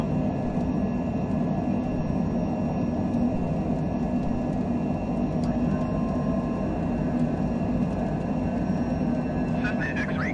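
Cessna light aircraft lifting off in a flight simulator game, a steady broad engine drone running continuously at close range with a faint higher whine, and voice chatter over it.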